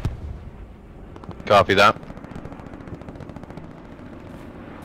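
Gunfire in the video game Hell Let Loose comes as two quick, loud back-to-back bursts over a low rumble, with a man's brief radio-style reply heard nearby.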